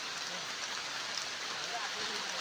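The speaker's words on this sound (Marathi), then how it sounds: "चला पाऊस पण पडायला लागला" Rain starting to fall outdoors in the Konkan countryside during a crab-catching outing, a steady soft hiss of drops with no other sounds.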